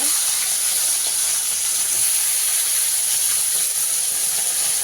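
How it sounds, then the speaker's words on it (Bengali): Bele fish frying in hot oil gives a loud, steady sizzling hiss that runs unbroken from start to finish. "এবার মাছটাকে ভেজে নেব মাছটাকে একটু লাল লাল করে ভেজে নেব"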